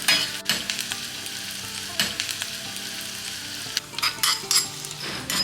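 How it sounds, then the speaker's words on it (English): Shallots and curry leaves crackle and sizzle in hot coconut oil for a Kerala bean dish, a steady close frying hiss with sharp spattering bursts and occasional stirring clinks from the pot. "To finish the beans, a simple tempering in coconut oil, shallots, curry leaves"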